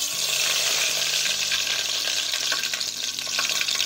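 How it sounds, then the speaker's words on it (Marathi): Curry leaves hit hot oil in a pan and crackle into a loud, steady sizzle that stays close and constant throughout, with no talk over it. "तेल आपलं तापलंय, त्यात आता मी कढीपत्त्याची पानं घालते."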